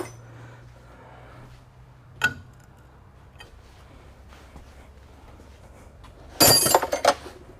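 Metal wrenches clink as someone searches through them for the right size, a single sharp clink early on, then a quiet stretch, then a brief cluster of louder metallic jangles near the end.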